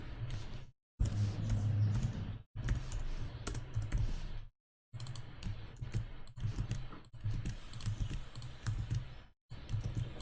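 Rapid clicking keystrokes on a computer keyboard while text is entered into an HTML file in the NetBeans editor, coming in steady bursts separated by brief pauses, close and clear with no talking.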